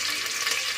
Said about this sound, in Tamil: குக்கர்லேயே நான் தாளிச்சு விட்டுட்டேன்.